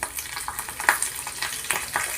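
Oil frying in a kadai for tamarind pulihora, Bobbili style, with a close, bright crackle and sizzle broken by a few small spattering pops over a couple of seconds, no voices.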